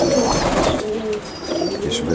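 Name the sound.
pigeons cooing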